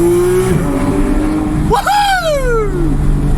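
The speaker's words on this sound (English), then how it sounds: "turn on the sports exhaust, stay on the speed limit of course" A Porsche with its sports exhaust switched on revs hard and accelerates through a short tunnel, the engine note climbing sharply then sweeping down, loud and close, with a voice under the early part.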